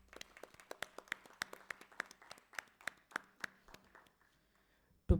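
Sparse, distinct claps at a national food packaging conference, individual hand claps in an uneven rhythm that thin out and stop, followed by a brief loud noise at the very end.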